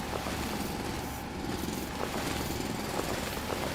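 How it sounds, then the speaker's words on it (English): Rock being drilled out in the video game Foundry: a steady, dense mechanical drilling roar that runs unbroken throughout at moderate level, with faint rhythmic chattering pulses inside it. "let's drill out this little section here"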